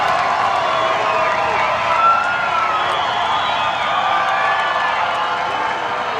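Loud, sustained crowd cheering and roaring at an ultimate frisbee semifinal, Seattle vs Madison, filling the whole stretch with dense, steady noise and a mix of shouting voices.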